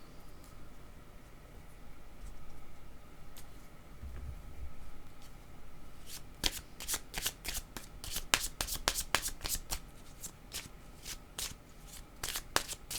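Playing cards being shuffled for a tarot-style card reading, a rapid run of crisp riffling bursts close up after a quiet start, with no talk over it.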